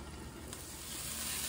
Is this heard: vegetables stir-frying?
yes